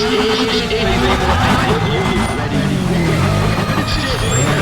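Race car engines idle and rev at the start line in the Need for Speed ProStreet racing game, a loud, steady wall of engine roar and mechanical hiss that carries through the whole stretch.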